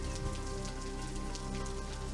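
Steady rain falls continuously all around outdoors, a dense, close, even patter with no break in rhythm and no voices.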